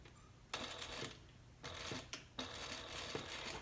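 A sewing machine with an edge foot stitches a vinyl handbag seam at a long stitch length, running in several separate bursts with short pauses between them, close by and moderately loud.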